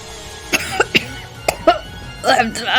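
A woman coughs several times in a dramatic voice-acted scene, sharp separate bursts spread over a few seconds, followed by louder, rougher vocal strain and breathy sounds at the end.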